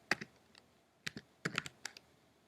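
Typing on a computer keyboard: a few soft, close key clicks in small irregular clusters, quiet and alone in a still room.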